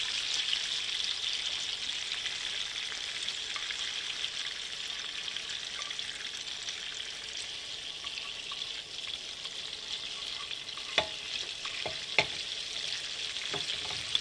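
Filet medallion steaks fry in a pan, an even, fairly soft hiss holding steady throughout, with a few brief knocks and clatters near the end and no talking.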